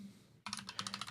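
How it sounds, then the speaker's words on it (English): Quick bursts of computer keyboard typing start abruptly after a brief near-silent pause, a rapid, irregular run of light keystrokes, soft and close, with no talking. "I hear the faint strokes of his keyboard through my earbuds."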